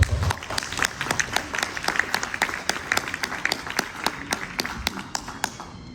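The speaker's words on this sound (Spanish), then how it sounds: "Un aplauso para Don Omar" An audience at a book fair presentation of a novel applauds the author, a brisk continuous spatter of many hands clapping with crisp, evenly spread claps throughout.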